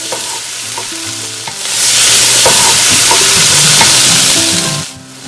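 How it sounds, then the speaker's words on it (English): Vegetables sauté in a soup pot for cabbage soup, a loud, steady sizzle swelling and then fading, with scattered clinks of the spoon stirring against the pot. "once you have all your vegetables in your pot, you're going to saute it for 3 more minutes"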